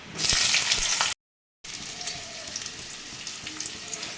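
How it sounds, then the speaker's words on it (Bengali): Vegetables fry in oil in a wok for a vegetarian greens dish, giving a loud, close, continuous sizzle that cuts out to silence for a moment, then resumes slightly softer. "আমি কড়াতে আবার একটু তেল দিয়ে দিয়েছি এবার সবজিগুলো আমি ভেজে তুলে নেব"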